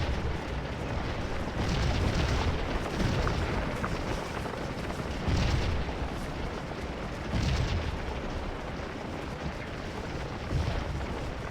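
Cannon fire from artillery guns in a Civil War strategy game, a dense battle din of repeated heavy booms roughly every few seconds over a constant rumble of gunfire and noise.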